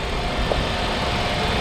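A used Kia Ray's engine runs with the engine bay open, giving a steady, close idling hum with a faint thin squeal riding on top throughout.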